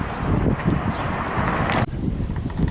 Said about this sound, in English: Bit of a windy day out today